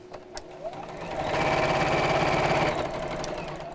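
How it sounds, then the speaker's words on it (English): A sewing machine runs steadily as it stitches fabric lining for a quilting project. The motor whir is close and continuous and builds slightly in the middle, with no talking over it. "And carry on sewing."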